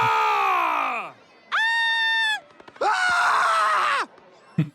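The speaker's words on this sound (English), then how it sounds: "Boy band scream?" Screaming from boy band fans in the cartoon Gravity Falls, episode Boyz Crazy, heard as three loud, drawn-out shrieks with pauses between them, each one sliding downward.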